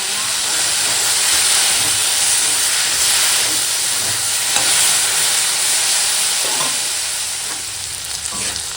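Okra coated in salt and turmeric hits hot oil with a steady, loud frying sizzle and broad hiss that runs unbroken throughout, easing slightly toward the end.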